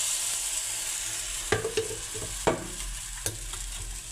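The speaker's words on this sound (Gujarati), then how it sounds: "થોડુંક અમથું તેલ નાખીશું અને બેટર આપણે થોડુંક જ નાખીશું" Gram flour batter for pudla cooks in a little oil on a pan, giving a steady soft sizzle with a few sharper clinks of a spoon or ladle against the pan, close by with no talking.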